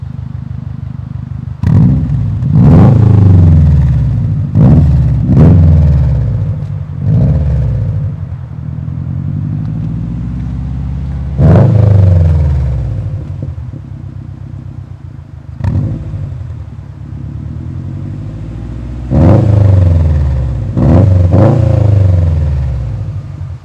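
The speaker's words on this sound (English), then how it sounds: "that was the install on the ETS muffler with the resonator on a 2020 STI. Honestly, it sounds awesome. Had a real deep rumble" A 2020 Subaru STI with an ETS muffler and resonator exhaust revs repeatedly, loud and close, with deep rumbling bursts that rise and fall between steadier idle stretches.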